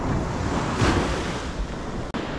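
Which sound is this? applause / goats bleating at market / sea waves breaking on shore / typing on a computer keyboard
sea waves breaking on shore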